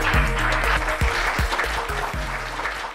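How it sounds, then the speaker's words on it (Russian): A studio audience on a regional talk show claps to welcome a guest, a steady wash of applause mixed with rhythmic music and low thumping beats throughout. "Ваши аплодисменты."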